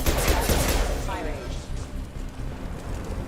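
A burst of gunfire from Mass Effect 2 opens loud, then fades into a rumbling battle bed as a voice talks over it.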